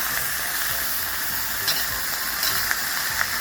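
Sizzling stir-fry in a hot pan or wok with soy sauce, oyster sauce, sugar and a splash of water. A steady close hiss of frying runs throughout, with a few brief scraping stirs and no talking.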